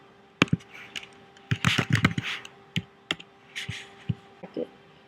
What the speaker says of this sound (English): If you start typing in the relationship, they'll start coming up for you.